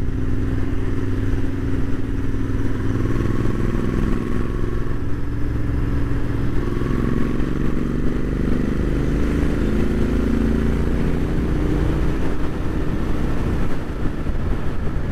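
Royal Enfield Interceptor 650 motorcycle engine droning steadily while cruising, a loud continuous low rumble with wind noise throughout and no pauses.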